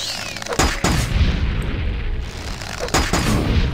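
A fire spell cast in the video game Morrowind, heard as loud, booming bursts of blasting magic repeating over a few seconds, with no talk.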